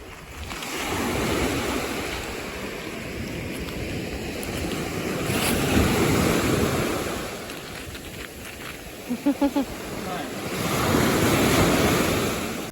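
Surf rolls and crashes on a Baja California beach while gusty wind buffets the microphone, the waves swelling and fading in loud washes with a few brief chirps in between.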